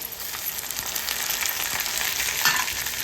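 Tomatoes drop into a pan over onions and fry with a steady, bright sizzle, with faint stirring scrapes now and then, no voices.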